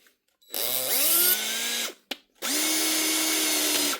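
Power drill run on low speed to free a seized chuck held in a vise, during a repair of DeWalt, Makita and Bosch tools: two sustained whining motor runs with a brief click between, close and loud.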